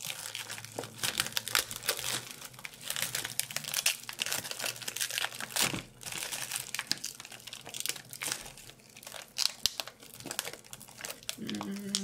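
Thin plastic foil packaging crinkles and rustles continuously while a Lowery stand is unboxed, with close, quiet crackles and small tearing bursts, and faint murmurs in the background.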